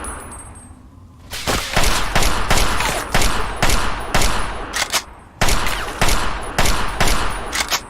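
Rapid gunfire from a jamming rifle in the video game Fallout 3: loud, close shots in quick rhythmic bursts that start after a second of quiet, pause briefly midway, then resume, with no talking over them.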